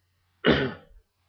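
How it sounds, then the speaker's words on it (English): A single short, rough throat clearing, close and fairly loud, lasting under a second before silence returns. "let me clear my throat."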